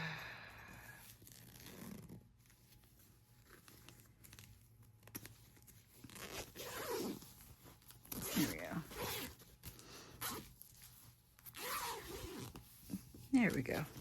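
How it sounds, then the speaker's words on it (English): A zipper on a craft kit pillowcase is pulled in a few short rasping strokes amid quiet handling and crinkling, with someone speaking softly in between. "The zipper."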